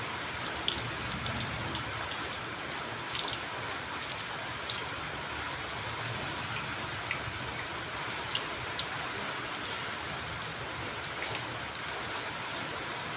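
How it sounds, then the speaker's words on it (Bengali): Steady rain falls through the whole stretch on a wet evening, a dense even patter of drops on surfaces with faint brighter ticks, no voices. "বৃষ্টি হচ্ছে"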